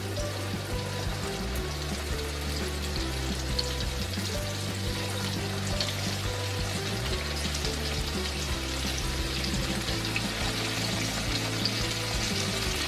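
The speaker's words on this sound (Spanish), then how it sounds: "Esto lo vamos a freír a fuego medio para que no se nos vaya a arrebatar." Steady, loud sizzling of chicken frying in hot oil over medium heat, a continuous crackling hiss with a low hum underneath, no voices.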